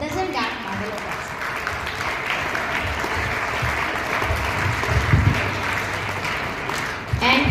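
A dense, steady wash of applause from a large audience clapping for participants at an Olympiad event continues for several seconds without easing, then ends abruptly near the close.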